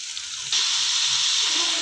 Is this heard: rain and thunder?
no